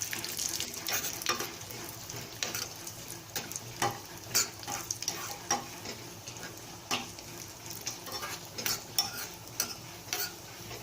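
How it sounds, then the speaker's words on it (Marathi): Dry fruit pieces frying gently in a spoonful or two of ghee in a small pan over low heat, a soft, quiet sizzle broken by scattered light clicks and taps. "एका कढल्यात 1-2 चमचे तूप गरम करायचं आणि त्यामध्ये ड्रायफ्रूटचे तुकडे घालायचे आणि मंद आचेवरती थोडंसं गरम करायचं"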